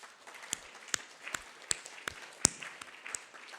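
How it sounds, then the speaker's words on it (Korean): Sparse applause from a church congregation at a Sunday service in Gyeongju, with a few separate, uneven claps scattered over a faint room hum. "박수 한번 하겠습니다."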